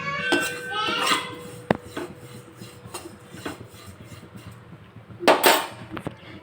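Scraping and rattling of a spatula against a pan while ingredients for laddu are dry-roasted until they change colour, with intermittent sharp metallic knocks and clinks over a low background, close by and moderately loud.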